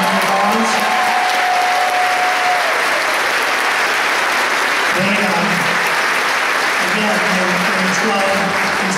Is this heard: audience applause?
yes